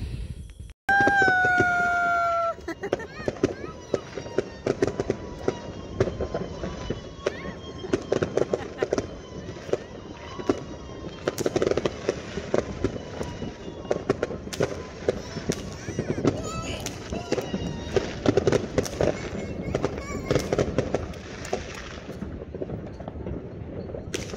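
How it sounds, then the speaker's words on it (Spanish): Neighbours' fireworks go off at midnight on Christmas, a rapid crackle of many bangs and pops spread across the sky, fairly distant. A whistling rocket rises at the start, and voices can be heard faintly underneath. "También los vecinos soltaron los juegos artificiales, se iluminó el cielo"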